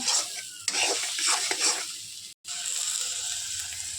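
An egg fries in a pan with a bright, steady sizzling hiss that continues almost throughout, broken only by a momentary silent gap before the sizzle resumes.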